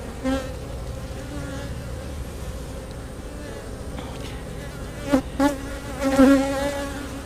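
Honeybees buzz steadily in an over-wintered hive holding a strong colony with dark queens, a dense continuous drone that swells louder near the end, with no talk.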